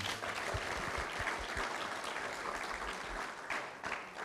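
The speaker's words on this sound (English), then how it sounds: "Let's give a big round of applause." An audience at a talk-show style chat event claps in steady, continuous applause, fairly faint and distant throughout.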